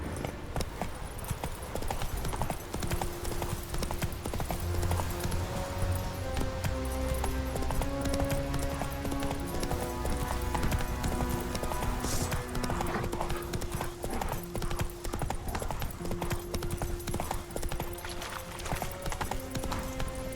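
Hooves of the horse in The Witcher 3: Wild Hunt galloping in a steady rapid clip-clop, continuous and prominent under game music and ambience.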